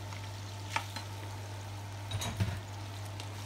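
Onions drop into a pan already frying potatoes and sausages, giving a steady sizzle with a low hum beneath and a few stirring scrapes and knocks toward the end.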